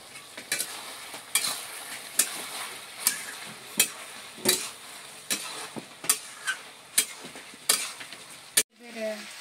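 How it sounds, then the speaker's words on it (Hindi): Garam masala and ground spices fry in a pan for mutton, with a constant sizzle and regular scraping stirs about once a second, close and moderately loud, with no speech. "गरम मसाला दे दे रहे हैं ताकि दोनों अच्छा से भून जाए।"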